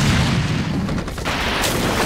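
Heavy cannon blasts boom in a dense, loud barrage from a video game, with no clear speech.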